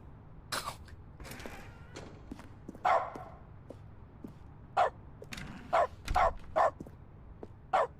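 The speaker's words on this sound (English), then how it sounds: "When you're in that giant room, the bark echoes a little bit" Dog in the video game The Stanley Parable barking in a giant room, about eight short sharp barks spaced irregularly, each ringing with a slight echo over a quiet background.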